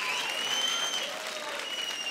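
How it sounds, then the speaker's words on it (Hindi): A studio audience at an entertainment show claps loudly in a thick, continuous burst of applause with no voices over it. "जोरदार तालियां हो जाए"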